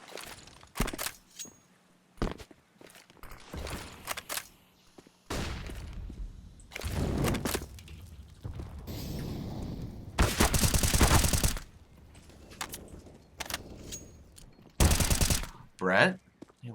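Counter-Strike gunfire on the Inferno map during an esports match, with several sharp bursts and single shots scattered across the clip, some loud and some distant, between quieter stretches that include footsteps.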